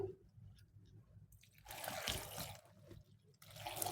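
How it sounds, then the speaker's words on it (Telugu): Water poured into a pot of chopped onions and cumin in two bursts, a quiet splashing trickle that swells then fades, heard up close with no speech. "కొద్దిగా వాటర్ వేసి"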